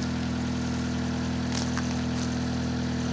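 A 1993 Honda Civic engine idles steadily after sitting unused for two years, a low even hum with a faint rattle, fairly quiet and without talk.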